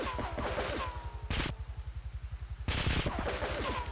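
Rapid automatic gunfire in GTA3 on Nintendo Switch, a long steady stream of close, loud shots broken by two brief louder bursts partway through.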